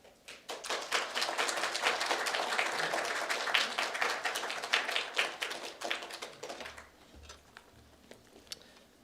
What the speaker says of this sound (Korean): 우리 나오실 때 우리 한 박수로 환영하고 격려했으면 좋겠습니다